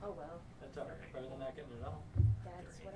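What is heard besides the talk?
None of the usual background noises is heard.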